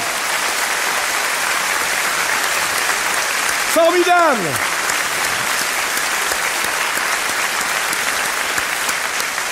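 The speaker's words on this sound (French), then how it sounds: "On t'applaudit très fort." A studio audience applauds loudly and steadily for a woman named Marie on a French comedy show, while a voice calls out briefly over the clapping.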